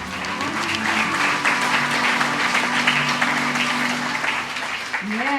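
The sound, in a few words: congregation applause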